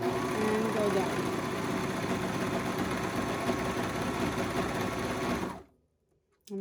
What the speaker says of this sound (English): Over at the serger, we're just going to come up to the edge of the leg